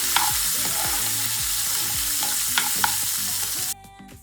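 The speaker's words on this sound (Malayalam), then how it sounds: "നമ്മുടെ കുഞ്ഞുള്ളി ഏകദേശം ഒരു മൂത്ത് പരുവായി വരുമ്പോഴത്തേക്ക് അതിനകത്തോട്ട് നടുവേ കണ്ടിച്ച് മുന്തിരി കൂടി ഇട്ട് കൊടുക്കണേ." Shallots and halved raisins fry in a hot pan, making a loud, steady sizzle with stirring scrapes, before the frying noise suddenly drops near the end.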